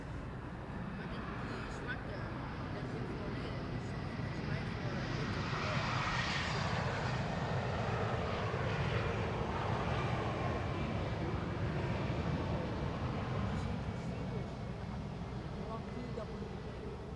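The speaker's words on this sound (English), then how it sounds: "And of course, another landing just now took place" An Airbus A321neo on landing at Amsterdam Schiphol Airport on a sunny day gives a steady, broad jet roar that swells slightly and then eases, heard from a distance and continuous throughout.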